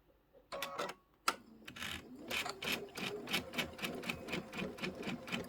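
A sewing machine stitches through a quilted bench pillow and over pins, starting with a few slow stabs and then running into a fast, steady rhythmic chatter at close range.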